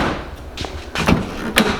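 A Honda Civic door being worked and shut, several quick thumps and a latch clunk in close succession, near and fairly loud, no talking.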